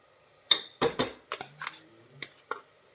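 Ground tomato, Byadagi chilli and garlic paste is added to a pan for tomato biryani, making a series of distinct clinks, taps and scrapes of a utensil against the pan, fairly close and spaced irregularly.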